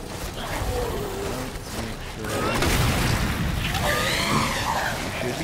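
Gunshots in the Resident Evil 2 video game ring out amid loud, dense mechanical game noise and rumbling booms, with a player talking over the action.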